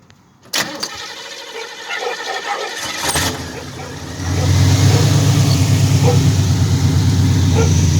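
A boosted engine fitted with a Holley vacuum-advance carburetor converted to blow-through, set for 15 pounds of boost, cranks for a couple of seconds, then catches and settles into a loud, steady, rumbling idle close by.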